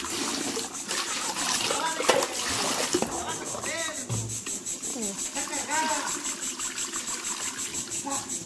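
Plums are washed in a basin of water, with irregular splashes and sloshing up close and steady rhythmic water movement, while a high insect-like drone continues in the background.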